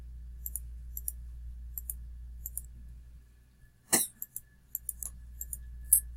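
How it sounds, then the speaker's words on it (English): Light plastic graphing calculator buttons clicked in short pairs and bursts over a steady low hum, with one louder clack midway. "We're going to type this part in over here on the calculator."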